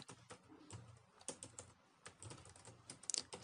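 Computer keyboard typing while entering text in Photoshop, a quiet close series of separate key clicks in short uneven bursts with small pauses, no voices.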